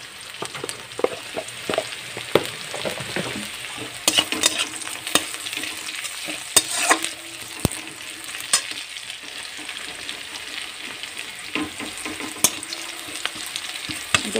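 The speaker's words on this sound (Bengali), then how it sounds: "একটু ভাজা ভাজা টাইপের করে নেব" Whole cumin seeds fry in hot oil while being stirred, a steady close sizzle broken by frequent scraping clicks of the spoon against the pan, with no talk over it.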